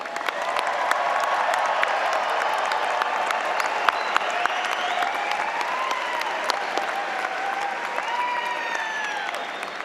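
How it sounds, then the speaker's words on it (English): A large crowd at a business school commencement ceremony claps for the graduates, producing sustained, even applause with a few scattered cheers and whistles rising over the steady roar throughout. "give all of our graduates another round of applause."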